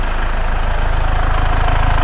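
An Iveco Daily recovery truck's diesel engine idles steadily close by, a loud, continuous low throb with an even rhythmic pulse and no voices.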